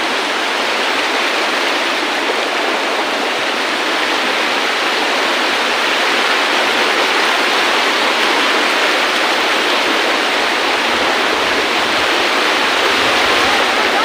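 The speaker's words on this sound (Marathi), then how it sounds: "कितक्या स्पीडने पाणी हा पाण्याकडे गेले" Fast monsoon river water from the Ganesh river rushes loudly and steadily throughout, a dense continuous roar close by with no pauses and no voices.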